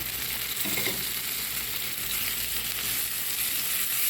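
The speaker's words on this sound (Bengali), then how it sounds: "এখন পেঁয়াজটা বাদাম করে একটু ভেজে নেব" Onion frying in a pan for a potato and long-bean stir-fry, giving a steady, close, hissing sizzle throughout with no talk.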